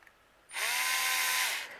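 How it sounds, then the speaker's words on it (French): A power drill with a small 2 mm bit bores into plywood, a steady high whine that starts abruptly and runs for about a second before cutting off, close and loud with no talk. "je vais percer avec une mèche du bon diamètre"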